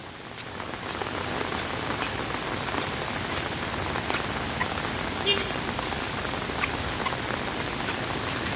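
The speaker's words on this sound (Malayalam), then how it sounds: "മഴ നിൽക്കണില്ലെങ്കിൽ എല്ലാ ഭാഗം കൂടി ഒന്നാകും" Heavy rain pours down steadily, a dense, even hiss of drops hitting surfaces with no pauses throughout.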